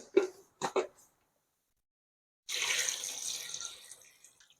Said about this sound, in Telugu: ఇవి వేసుకొని మనం ఇందులో వాటర్ యాడ్ చేసుకోవాలి.